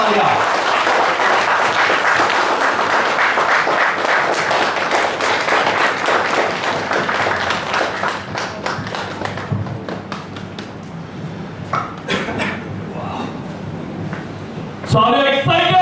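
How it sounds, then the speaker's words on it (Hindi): Loud audience applause greets Dr Santosh Parab at a seminar, a thick roar of clapping that gradually thins into scattered claps and a few sharp individual hits, ending with a brief burst of noise. "प्लीज जोरदार तालियां"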